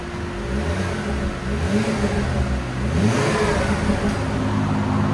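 A 2008 Volvo C70 2.5L turbo five-cylinder on its stock exhaust runs with a steady, low mechanical drone, rising slightly as it revs; the exhaust sounds subdued and fairly quiet, with no one speaking.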